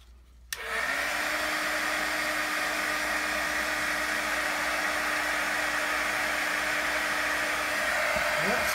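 A heat tool switches on abruptly and blows a steady, loud, even hiss of hot air to melt embossing powder on a stencilled butterfly design, running continuously close by.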